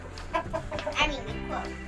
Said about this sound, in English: He does have a loud crow.